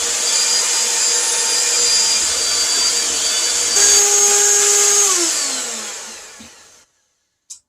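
An electric hand mixer whirs steadily through cake batter of cream cheese, sugar, vanilla and salt for a lemon pound cake, a bright sustained whine that dips in pitch before cutting off, followed by a small clunk.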